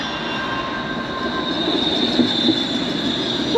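An ION light rail train pulls into a station with a loud, steady rumble, a sustained high wheel squeal and faint rail clatter, close by and continuous.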